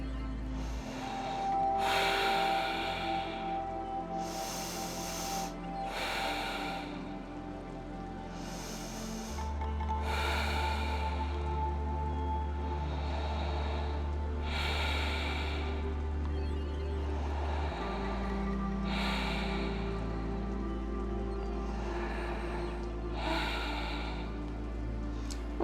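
Slow, steady Ujjayi breaths during a home yoga practice, each long oceanic inhale and exhale rising and falling in a regular rhythm, close and soft over a low sustained musical drone, with no talking.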